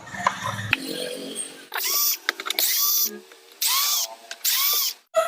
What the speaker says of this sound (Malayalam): ഈ സെൻറ്ററിലെ സ്ക്രൂ ഒരെണ്ണം ഊരുക അതുപോലെ തന്നെ ഇവിടുത്തെ നാലിനും ഊരുക